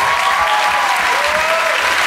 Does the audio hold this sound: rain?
no